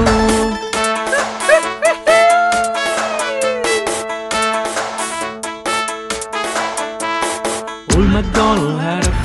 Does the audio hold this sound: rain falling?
no